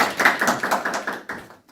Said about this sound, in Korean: 우리 노 목사님께 박수 한번 부탁드리겠습니다.